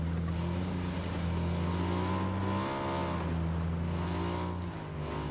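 Continuous motorcycle engine drone in PUBG with rising and falling revs, accelerating and cruising, steady and moderately loud with no talking.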